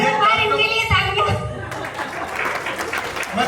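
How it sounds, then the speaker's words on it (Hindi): Audience applause at a Republic Day Hindi poetry recital (kavi sammelan), a burst of crowd clapping mixed with chuckles and chatter following a spoken voice, fairly loud and close. "इनके लिए तालियां।"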